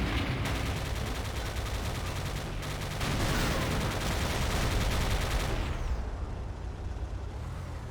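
Sustained, loud gunfire from gunners in the PC game Command & Conquer: Renegade, rapid bursts layered into a dense, continuous barrage that thins slightly near the end, with no talk over it.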